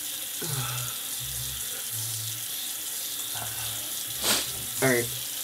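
Water runs and splashes at a sink during a face wash, a soft steady hiss with a low hum, brief splashing bursts near the end, and no clear talking.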